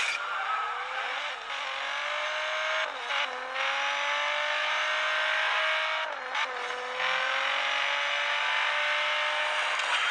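A race car in the Asphalt 8: Airborne video game runs with a loud, continuous engine drone. The pitch rises steadily through each gear, drops sharply at a few shifts, and then climbs again, with no talking.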